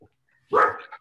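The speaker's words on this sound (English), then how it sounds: "I have dogs." A dog gives a single close bark, short and sharp, followed by a brief softer yip-like tail in an otherwise quiet room.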